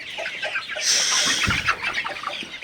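Fifty-day-old Sonali super hybrid chickens cluck and chatter close by on a farm in Faridpur, several birds calling in quick overlapping bursts.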